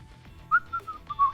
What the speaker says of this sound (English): I love just randomly, like, whistling whenever something happens like that